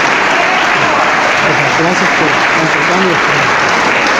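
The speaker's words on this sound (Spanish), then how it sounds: "Aplauso fuerte, que se oiga" A congregation at a church gathering applauds loudly and continuously, with a voice speaking over the clapping.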